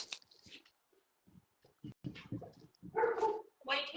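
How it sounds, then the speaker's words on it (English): A dog gives a few soft barks and whimpers in the background, mixed with scattered speech and handling noises, fairly faint overall. "I hear the dog in the background."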